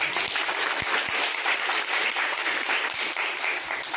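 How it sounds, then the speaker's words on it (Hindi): An audience applauds a woman during a fitness session, a steady wash of clapping from many hands, continuous and fairly loud for the whole stretch. "तो एक बार मैम के लिए जोरदार ताली बजाइए"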